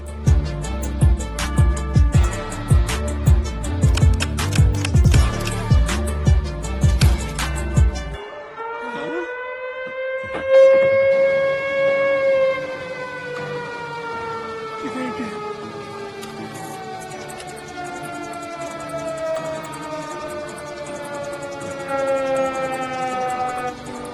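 A loud siren wails, its tone rising and then slowly falling over many seconds, following a burst of loud rhythmic music that cuts off abruptly.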